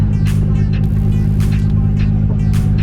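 A Nissan R32 GT-R fitted with an Apexi power intake idles at about 1,000 RPM, a loud, steady low rumble close by with faint hissy intake pulses over it.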